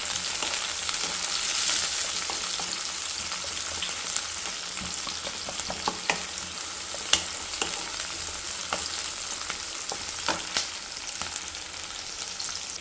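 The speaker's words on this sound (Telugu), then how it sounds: "కొద్దిగా కరివేపాకు, 3 చిల్లి, కట్ చేసుకున్న ఆనియన్స్. సో ఆనియన్స్ ఇప్పుడు వేగాలి." Onions sizzle and fry in hot oil with curry leaves, mustard seeds and three chillies for a beetroot fry, a steady crackling hiss with occasional sharper pops and stirring sounds, close and alone.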